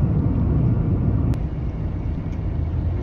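A car cruising along, heard from inside a cabin with soundproofing on the doors and floor: a steady, muffled low rumble with no tyre or wind noise, plus one brief faint tick partway through.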